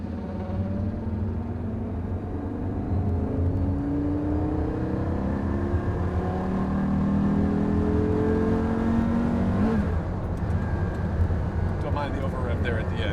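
A Porsche Carrera GT's engine pulls hard in fourth gear, a loud sustained roar that climbs steadily in pitch from inside the car, with a voice talking over it near the end.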